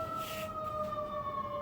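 An ambulance siren wails outside with a steady two-tone pitch that slowly drifts downward as it passes, heard at a moderate distance through a room with faint background noise.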